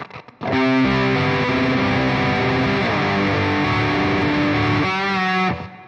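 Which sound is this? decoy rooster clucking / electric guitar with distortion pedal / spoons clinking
electric guitar with distortion pedal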